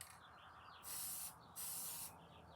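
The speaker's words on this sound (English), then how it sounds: "We're just gonna give it a quick mist." Two short bursts of clear matte spray paint mist from an aerosol can, each a loud close hiss lasting about half a second with a brief pause between them, no talking.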